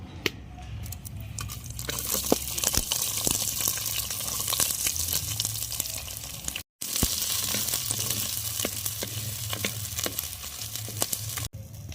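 Small shallots and curry leaves fry in hot oil with a dense, continuous crackling sizzle and scattered sharp pops, cut off by a brief silence midway before resuming just as strongly.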